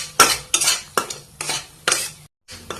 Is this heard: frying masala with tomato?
yes